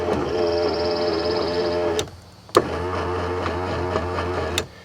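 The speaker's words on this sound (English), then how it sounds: "that's definitely the motor just freewheeling and not applying any torque" A 1995 Ford Crown Victoria LX power window motor freewheels without driving the mechanism, a steady close whirring hum broken by a brief pause and a few sharp clicks.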